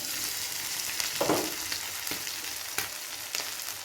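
Pieces of South Indian chicken chukka frying in oil in a pan, a steady close sizzle broken by a few sharp crackles and the scrape of a stir.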